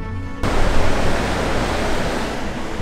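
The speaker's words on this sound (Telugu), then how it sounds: "పైన మంచు కరిగి ఆ ఐస్ మొత్తం వాటర్ లాగా కిందకు వస్తున్నాయి" Himalayan snowmelt water rushes down a stream near Chitkul village, starting abruptly and then holding a loud, steady broadband roar, close by, with no talking.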